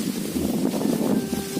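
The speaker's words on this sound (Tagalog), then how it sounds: "Yung hangin talaga guys, napaka windy." Strong wind gusts across an outdoor spot beneath a star apple (caimito) tree, buffeting the microphone with a steady, loud, low roar and no voices.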